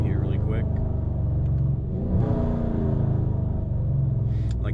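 Dodge Challenger ScatPack V8 rumbling deep and loud inside the car as it runs through quick downshifts, with a sharp rev blip partway through and someone speaking over it.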